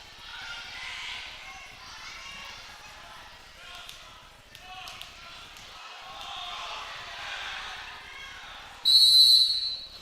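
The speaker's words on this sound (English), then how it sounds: "Whistle blows." A referee's whistle blows at a high school volleyball match in a gym, one sharp loud shrill blast near the end after crowd chatter and children's voices.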